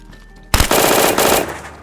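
Automatic gunfire in the video game DayZ: after a short quiet moment, a loud, close burst of rapid shots rattles for about a second, then fades out.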